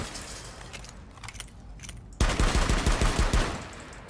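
Rapid gunfire in Rainbow Six Siege, shooting through a wall: a burst of about eight loud, evenly spaced shots follows a quieter stretch of faint clicks and game ambience.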